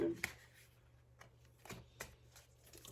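Tarot cards shuffled by hand for a reading, several soft close riffling flicks spread across a few seconds in a quiet room, with faint voice in the background.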